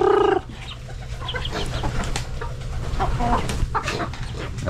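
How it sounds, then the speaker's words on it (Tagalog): Chickens on a farm cluck and cackle close by in a busy, continuous chorus, with a brief higher call at the start and scattered sharper squawks throughout. "Manok ni Penggay."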